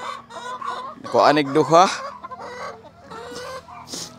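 Rhode Island Red chickens on a farm cluck and squawk nearby in repeated bursts, one louder call rising in the middle, while someone talks intermittently over them.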